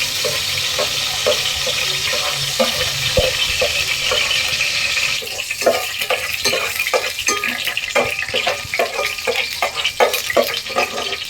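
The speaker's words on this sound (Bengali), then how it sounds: "কয়েকটা তেজপাতা দিয়ে নেব। দিয়ে একটু নাড়াচাড়া করে দিতে হবে।" Bay leaves fry in hot oil in a pot while being stirred, a steady sizzle with rhythmic scraping strokes that turn brisker and more regular midway.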